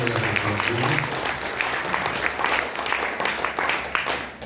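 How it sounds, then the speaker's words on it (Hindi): Audience at an Arya Samaj gathering applauds loudly to welcome a guest, a dense steady clatter of many hands that stays strong throughout with some voices mixed in. "एक बार जोरदार तालियां बजा के स्वागत कीजिए।"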